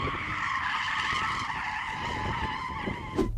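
A rear-wheel-drive Mercedes drifts with its tyres skidding in a long, continuous, wavering squeal, heard fairly close against a dull engine rumble, ending in a brief thump.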